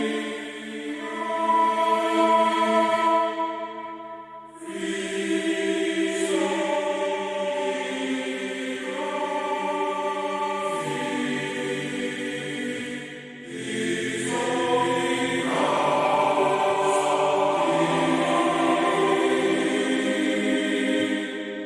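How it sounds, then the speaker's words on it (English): A Paravox synthesizer's Phantom Voice patch sings sustained vocal chords that shift every few seconds, swelling and easing in loudness with no talking. "And then there's the Phantom Voice."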